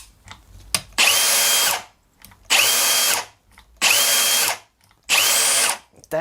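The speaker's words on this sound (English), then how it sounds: "I don't think I've heard an angle grinder stop any quicker than that." A cordless angle grinder with rapid-stop braking spins up four times in a row, each loud whining run lasting under a second before cutting off abruptly, with short quiet gaps and faint handling clicks between.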